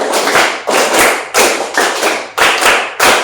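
A class claps together in a counted pattern: roughly six dense bursts of sharp, close hand claps in steady rhythm, loud and unaccompanied by speech.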